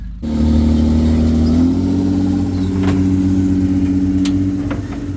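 A Mitsubishi Magna's engine runs hard during a run-in session at a rally club khanacross and burnout event, a loud, sustained steady drone that rises slightly in pitch, close by with faint clicks and knocks over it.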